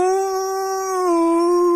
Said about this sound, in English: The wolf threw back its head and let out a terrifying howl.